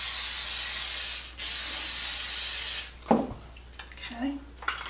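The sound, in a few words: spraying cooking spray into an 8x8 pan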